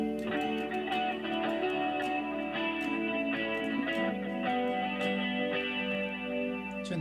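An electric guitar plays a sustained, steady passage through a Halo delay pedal, its notes trailing into washy, repeating echoes with a chorused, slightly distorted sheen, loud and continuous, with no talking.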